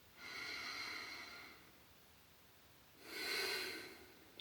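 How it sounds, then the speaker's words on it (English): Two slow, deliberate inhalations through the nose during a guided meditation, each a soft airy hiss lasting over a second, separated by a quiet pause, close and otherwise silent. "we'll start just by breathing in through the nose"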